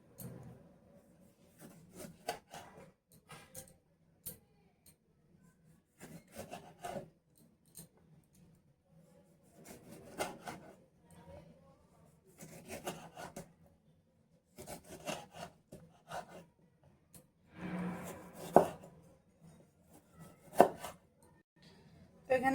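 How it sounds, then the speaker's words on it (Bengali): Knife slicing through a fresh tomato on a chopping board while preparing a potato, egg and cheese omelette, giving soft irregular cutting and rubbing strokes in scattered bursts, close and fairly quiet, with no talking. "টমেটোটা এভাবে একটু স্লাইস করে কেটে নেব।"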